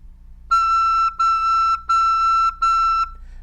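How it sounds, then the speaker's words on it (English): A recorder sounds a high E with the thumb off the back hole, a pure, steady whistle-like tone played as four sustained notes with short breaks between them, close and clear with no talking. "And you want to continue to make a D sound, and it sounds like this."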